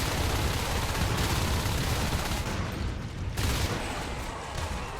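In a competitive shooter match, dense video game gunfire rattles in continuous bursts, loud and close, with heavy low booms mixed into the volley for the whole stretch.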